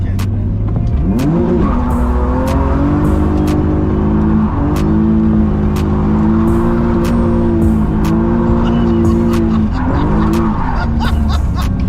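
A BMW E46 street drifting gives a loud, close, sustained engine howl that rises and falls in pitch, with tire squeal blended in throughout and occasional sharp clicks over the top.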